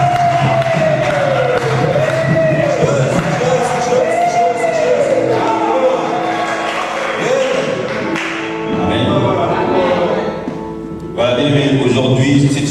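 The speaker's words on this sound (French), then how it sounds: "Acclamez pour les Seigneurs." Crowd at a 2014 theology school graduation cheering and shouting with acclaim, a loud, dense roar of voices and whoops with some tapping and thumps, sustained across the clip.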